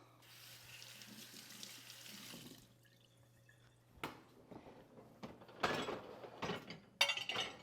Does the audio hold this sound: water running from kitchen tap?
yes